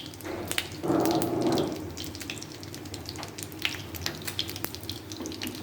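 Aloo chicken kababs fry in a pan over a low flame, a steady soft sizzle with a louder burst near the start, plus occasional light clicks and taps throughout, with no talking.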